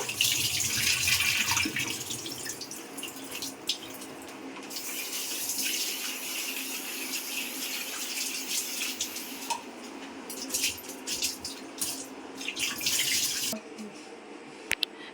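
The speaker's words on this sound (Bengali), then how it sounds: "তো ডালটা ভালো করে ধুয়ে নেব।" Lentils (dal) rinsed under a running kitchen tap, a steady broadband gush of water with splashing and sloshing as the grains are swished, continuous and close for the whole stretch with brief louder bursts.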